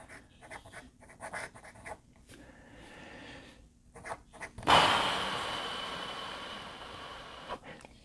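A Pilot Falcon fountain pen nib scratches across paper in short, close strokes with brief pauses, then a louder, broader rustle swells and slowly fades.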